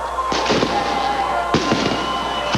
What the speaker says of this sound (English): Now fireworks begin to go off on either side of the stage here at the start-finish line.